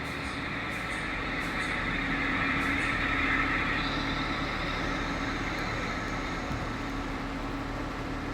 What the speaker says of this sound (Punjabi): ਕੰਬਾਈਨ ਵਾਲੇ ਭਾਈ ਫਟਾਫਟ ਕਰਦੇ ਸ਼ੁਰੂ